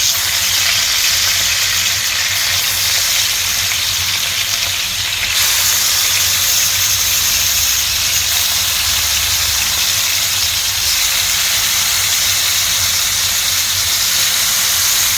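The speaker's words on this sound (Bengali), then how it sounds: "ফ্রাই প্যানটা বেশ বড় আমার, তো একসাথে সবগুলো মাছ আমি ফ্রাই করে নিচ্ছি।" Whole fish, seasoned with turmeric, chili and salt, fry together in hot oil in a large frying pan, giving a loud, close, continuous sizzle and crackle that holds steady throughout with no speech.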